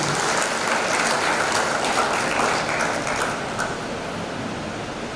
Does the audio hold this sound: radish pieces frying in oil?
no